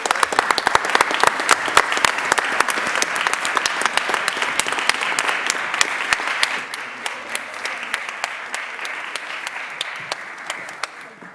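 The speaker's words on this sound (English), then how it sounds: "let's give them both a round of applause" A crowd at a Columbus city council meeting claps together in a sustained round of applause, individual claps crisp and close, gradually thinning and fading toward the end.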